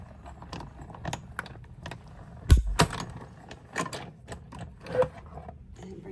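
A fabric cutting machine for quilted squares clicks and thumps through a pass, with irregular mechanical taps and one heavier clunk midway, close and fairly quiet.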